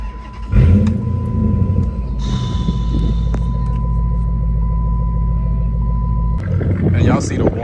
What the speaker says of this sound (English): And y'all see the warm idle right now.